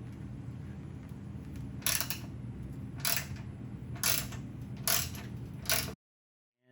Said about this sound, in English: You'll need a T45 star bit to remove these bumper end cap bolts.